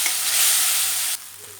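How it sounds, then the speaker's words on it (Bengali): Spice masala for a Bengali jackfruit curry sizzles loudly in a kadai, a dense steady hiss that drops abruptly to a quieter simmer near the end. "মশলাটা একটু কষাবো।"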